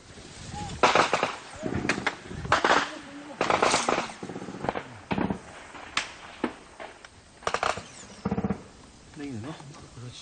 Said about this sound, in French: Pilonnés par l'artillerie